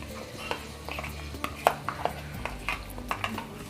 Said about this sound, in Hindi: इसे हल्का सा मिक्स कर देंगे, हल्के हल्के हाथ से मिक्स कर देंगे।